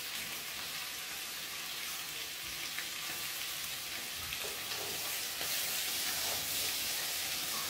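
Pasta in vodka sauce sizzles in a pan with a steady, close, hissing fry and faint stirring noises throughout.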